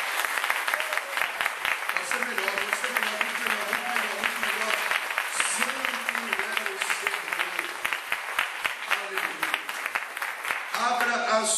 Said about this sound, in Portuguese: dá uma salva de palmas para mim